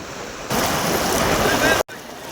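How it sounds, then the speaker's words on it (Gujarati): Floodwater of the swollen Jambudi river after heavy rain rushes over a bridge, a loud steady roar of churning water that holds close and unbroken, with a brief dropout near the end. "પુલ ટપવામાંથી આટલું બધું પાણી જાય છે"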